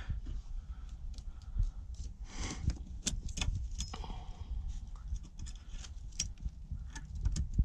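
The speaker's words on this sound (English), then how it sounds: "Drop the bolt down in." Metal bolts dropped into place and clicked into their fittings during work on a Corvette's rear end, producing scattered light metallic clinks and taps close by against a low, steady room background.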